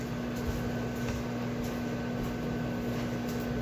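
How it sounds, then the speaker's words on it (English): A microwave oven heating a pepperoni Hot Pocket gives off a steady, even electrical hum with a constant low drone, unbroken and moderately quiet throughout, with no voices. "I'm just gonna pull it out of the microwave."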